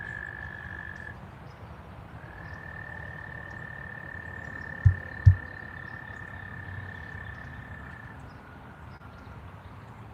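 Frogs croak nearby in a quiet outdoor setting, a steady low rasping chorus with a sustained high whine running across most of the stretch and two sharp close knocks midway.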